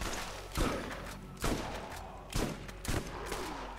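Shotgun blasts in Borderlands, four heavy booming shots spaced about a second apart, each with a short decaying tail over a constant low background.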